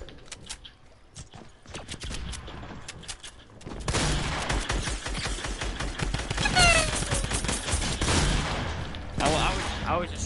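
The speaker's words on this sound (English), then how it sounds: "I was just shooting at anything north." Video game gunfire, scattered shots at first, then a dense sustained fusillade of rapid bursts, loud and close, with voices talking over it.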